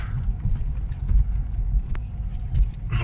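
A car on a country road in Kharkiv region, Ukraine, returning from a fishing trip, heard from inside as a steady low road rumble with light rattles and knocks, no talking.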